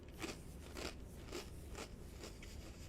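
A crunchy snack being eaten, with a string of crisp bites and chews repeating at a steady pace, close to the microphone over faint background noise.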